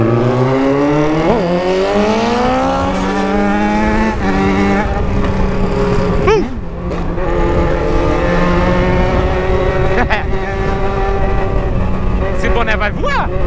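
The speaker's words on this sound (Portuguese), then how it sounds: "agora tá estralando pra caralho esse carro. Você reduz, parece uma BMW" Engine exhaust pops and crackles on deceleration as a loud engine revs up and down, its rising and falling drone broken by sharp bursts of crackling, with faint voices underneath.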